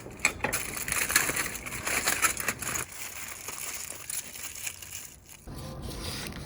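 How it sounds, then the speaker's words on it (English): Foil or paper wrapping is pulled off a rested smoked prime rib cooked on a Weber grill, producing close crinkling and crumpling in bursts that ease off partway through. "Now we get to unwrap it and cut it up."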